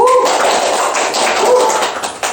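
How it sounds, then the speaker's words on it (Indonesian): Classroom applause for a pupil in a sixth-grade Islamic studies lesson at an Indonesian primary madrasah: a short burst of many hands clapping together, close and lively, fading after about two seconds. "beri aplaus untuk Khairul Kalam."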